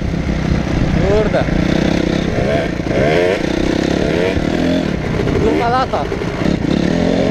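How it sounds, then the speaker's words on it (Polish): A Yamaha motorcycle rides through the first snow, its engine revving in short rising bursts that stay close and loud, while a rider talks over the engine noise. "Pierwszy śnieg motorkami elegancko."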